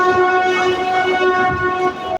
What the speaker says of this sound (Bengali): আর এই হচ্ছে ঈশ্বরদী জংশন স্টেশন